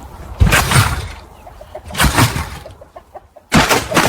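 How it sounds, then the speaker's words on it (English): An AI-generated chicken video plays three loud bursts of clucking and squawking, separated by quieter gaps with softer rhythmic clucks in between. "Someone made an AI video of a chicken, man."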